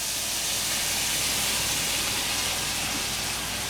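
Steady broadband hiss of steak stir fry sizzling in a hot pan, continuous and fairly loud with no talking.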